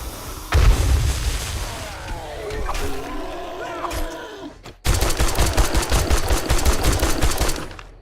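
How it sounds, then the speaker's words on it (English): A pipe bomb goes off in the survival game 7 Days to Die: a loud close boom starts the clip, a rumble and debris follow, then a second sharp blast sets off a rapid crackling burst of gunfire, with excited talk over the chaos. "Plus a pipe bomb."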